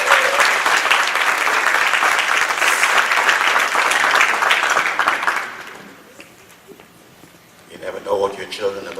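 An audience at a 25th anniversary celebration gives a round of applause, steady and full for several seconds before fading out, followed by a little murmuring and movement in the room.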